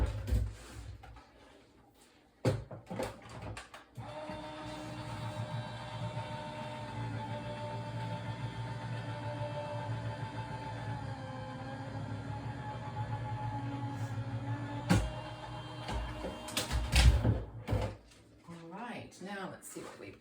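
A card layer is cranked through a die-cutting machine, giving a steady mechanical grinding and rolling hum that runs for about eleven seconds at moderate level, with clicks and handling noises at the start and end.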